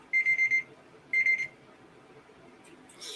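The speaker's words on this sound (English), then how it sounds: "That was my alarm going off" A digital alarm clock beeps in two short bursts of rapid pulsed tones, the first longer than the second, then falls quiet, going off as a reminder indoors.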